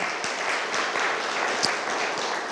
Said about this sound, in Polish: oddajmy Panu Bogu chwałę oklaskami